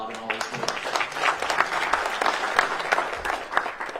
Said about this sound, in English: Round of applause for Bob and all his work.